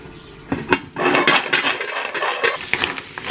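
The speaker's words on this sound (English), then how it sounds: "And I'll cover it with the lid." A metal lid set down onto a pot of cockles with a couple of clanks, followed by a steady close hiss of the shellfish steaming underneath.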